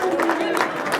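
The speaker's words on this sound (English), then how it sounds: "Man, give yourselves a hand clap." Wedding guests at a Kenyan wedding in Nairobi clap their hands together, a brief burst of dense crowd applause heard close, with voices mixed in.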